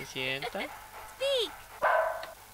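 A small dog barks in a Spanish-language puzzle video game, a few short yips and harmonic barks spread over two seconds, mixed with a voice talking over the game audio.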